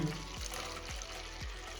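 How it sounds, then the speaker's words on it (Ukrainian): Rainwater poured into a small container, a close trickling, splashing stream with a few gurgling drops, quiet and brief with no talk. "І ось в таку ємність невеличку там наливаю води"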